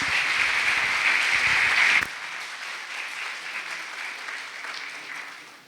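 Loud, dense applause from an audience for about two seconds, then a quieter, sustained patter of clapping that slowly fades.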